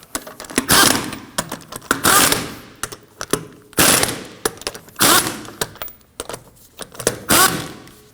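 Lug nuts on a 2003-2006 Subaru Baja wheel are snugged down with a power tool in loud, repeated rattling bursts about once a second, separated by brief quieter gaps.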